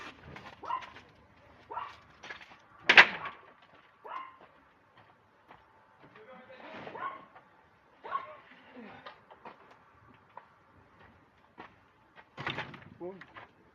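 A dog barks in short scattered bursts at moderate distance with some whimpering between, while someone talks quietly in French over the room noise.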